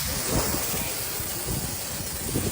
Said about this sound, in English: Trying to water down our house.